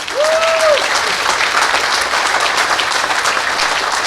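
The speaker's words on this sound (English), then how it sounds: "Can we give them a round of applause?" Audience applause for hotel workers at The Hotel at the University of Maryland, a dense steady wash of clapping from a crowd, with a brief whistle near the start.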